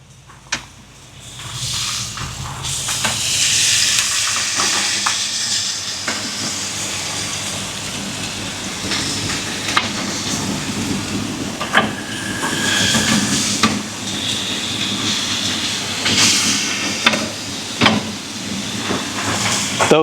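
Pork blade steaks on a charcoal griddle of an Oklahoma Joe Tahoma 900 auto-feed cooker hiss and sizzle loudly as they are flipped, with sharp scrapes and clacks of the spatula breaking through the steady frying.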